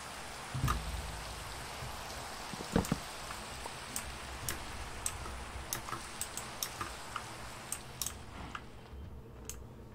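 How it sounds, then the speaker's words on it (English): Steady rain falls in the Minecraft video game, a soft continuous hiss with scattered light ticking drops spread across the whole stretch. "especially when it starts raining."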